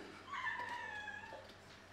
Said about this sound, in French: si vous entendez un petit chat qui miaule, c'est mon petit Toto